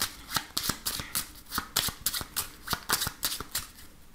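A 32-card deck is riffled and shuffled for a card reading: a rapid, regular run of crisp, close shuffling bursts, steady and loud throughout, with no talking.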